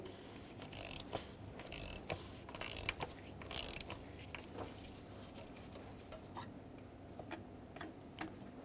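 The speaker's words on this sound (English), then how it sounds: "This one in here is your oil filter. Use a 36 millimeter socket and break this free." A ratchet fitted with a 36 mm socket works loose the oil filter cap on a 2008-2010 Ford F-250 6.4L diesel. Faint, close metallic clicks and small clanks come in an uneven sequence over low background hum.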